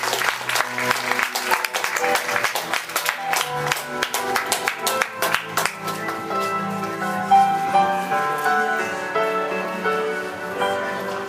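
A church congregation at a seminar in Togo claps and cheers together in a sustained burst of applause, with voices and tonal sounds mixed in.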